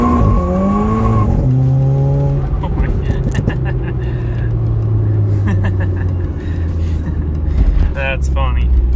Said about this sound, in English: you could hear the tires chirping.